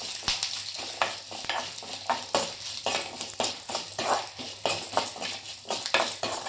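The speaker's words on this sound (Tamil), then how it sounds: "அதனால் நம்ம வறுக்கிறப்ப எல்லாத்துக்குமே கருவேப்பிலை போட்டுக்கலாம்" Curry leaves dry-roasting in a pan for sesame podi, a dry crackle with repeated scraping stirs of a spoon against the metal at a steady rhythm, close up and without talk.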